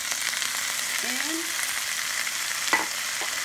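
Onions, carrots and spinach sizzle steadily in a hot pan as they are stirred, a close, constant frying hiss with a few soft scrapes and knocks of the spoon.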